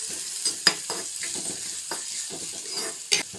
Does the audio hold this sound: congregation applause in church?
no